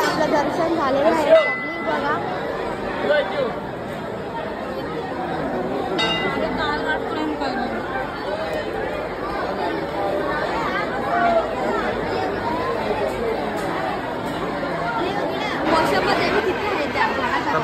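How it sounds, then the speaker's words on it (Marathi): Festival crowd chattering at the Varala Devi temple during the Telugu Pochamma festival, a continuous dense babble of many voices with occasional faint clinks and bell-like dings throughout. "तर बघा मित्रांनो गर्दी किती आहे आज."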